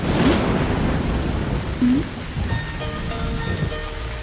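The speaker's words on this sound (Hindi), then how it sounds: "अरे नहा रहे हैं तो बारिश हो रही है, कोई बात नहीं।" Steady heavy rain pouring down outdoors, a continuous close hiss of drops, joined near the end by faint sustained musical tones.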